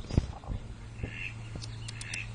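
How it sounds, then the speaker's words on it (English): Several short duck quacks scattered over steady outdoor background noise, with a few sharp bursts and a faint voice early on. "Stupid ducks."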